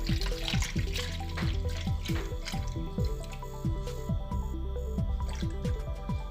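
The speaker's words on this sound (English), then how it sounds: "I'm going to pour this cooled down syrup into the jug" Thick cooled lemon balm syrup pours and glugs into a jug in quick irregular bursts, close up, with a faint background hum.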